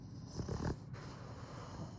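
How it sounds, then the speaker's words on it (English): A Cavalier King Charles Spaniel snores right into a microphone, giving a few soft, rough snorting breaths close up in a quiet room, followed by low steady breathing. "Donut was literally snoring into the mic the entire time"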